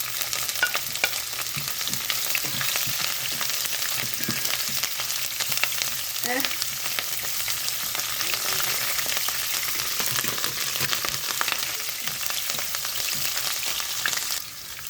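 Onions frying in a pan for Filipino pork pastel, a steady close sizzle running the whole time with occasional stirring scrapes, no talk.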